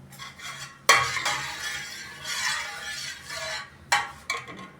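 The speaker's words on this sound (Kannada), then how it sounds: "ಸ್ವಲ್ಪ ಕೈ ಆಡಿಸ್ಬೇಕು ಅದನ್ನ" A spoon scrapes and clinks against a pot of sugar syrup with cardamom powder while making gulab jamun, a few sharp metallic knocks between softer swirling strokes, close and fairly quiet.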